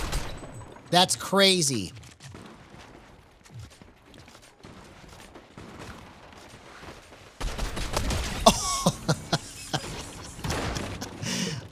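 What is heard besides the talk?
gunfire in a video game, hunting rifle shots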